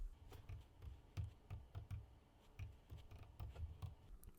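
Dimensions being typed on a computer keyboard while setting up a Cricut Explore engraving job, with quiet, irregular key clicks in short bursts and no talking.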